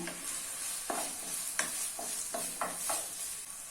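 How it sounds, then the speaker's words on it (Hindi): Finely chopped onions fry in oil in a kadai over a medium flame for chicken liver masala, a soft steady sizzle broken by several sharp scraping strokes of a spoon stirring, heard close with no voices. "अभी ऑनियन को मीडियम फ्लेम पे गोल्डन ब्राउन होने तक फ्राई कर लेना है।"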